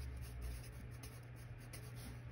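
Faint, soft scratching of a pen writing on paper in a quiet room, a steady light rustle under a low background hum, with no speech.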